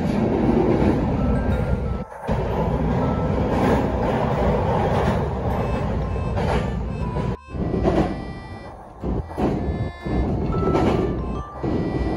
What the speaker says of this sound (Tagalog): Hintay lang tayo ng train.